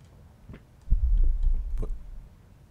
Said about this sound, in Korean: 심장박동 소리 한번 들렸어.